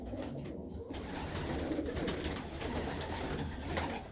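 Racing pigeons coo steadily inside a loft, a dense, continuous murmur of soft calls from many birds close by, with no talk over it.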